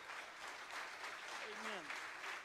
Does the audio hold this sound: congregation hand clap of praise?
yes